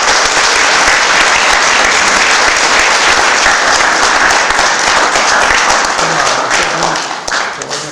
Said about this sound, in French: Nous pouvons l'applaudir à sa juste valeur.